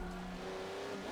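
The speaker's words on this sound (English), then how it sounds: "Everybody starts going up the side of the bloody, I mean the track, and chaos in the first lap." Race cars at Daytona in Forza Motorsport 7 roar in a steady, loud engine drone with a sustained high whine, a brief close burst of pack racing with no voices.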